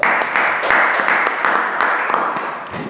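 Applause from a talk-show audience, a steady wash of clapping hands running throughout at moderate loudness with no voices over it.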